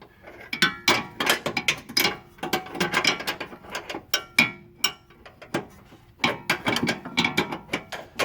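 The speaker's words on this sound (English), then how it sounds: "put a wrench on the other side so that nut will not turn as you ratchet the complete bolt off" A ratchet backs a car bolt out while a wrench holds the nut on the far side, making rapid close clicking in several loud bursts separated by short pauses.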